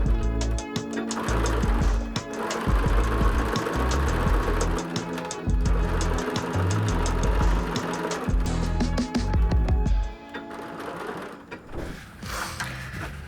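A sewing machine stitches embellishment onto a large clutch bag, its motor running in a steady mechanical whir with rhythmic needle clatter through most of the stretch, pausing briefly near the end before resuming.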